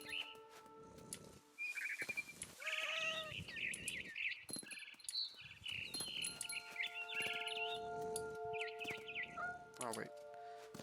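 Cat meowing in the video game What Remains of Edith Finch: several drawn-out, wavering meows and yowls rise over a sustained game music bed, mixed with bird chirps and a final rising cry.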